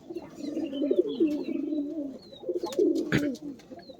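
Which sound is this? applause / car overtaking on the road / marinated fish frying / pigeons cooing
pigeons cooing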